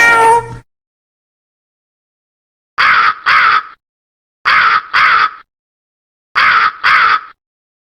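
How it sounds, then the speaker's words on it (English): A raven caws in three loud, close pairs of harsh calls, evenly spaced with pauses between, after a brief tail of a preceding cat meow. "Raven."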